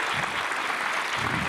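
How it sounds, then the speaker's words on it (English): A concert audience applauds with a continuous wash of many hands clapping, loud and even for the whole short stretch. "please a big round of applause"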